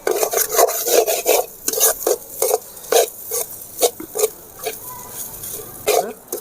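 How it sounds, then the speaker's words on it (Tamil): Drumstick leaf fried rice with egg being stirred in a pan, with rhythmic rasping scrapes of a spoon against the metal over a faint sizzle, close and alone. "சோத்தை இறக்கி விட்டு நல்லா கிண்டுங்க."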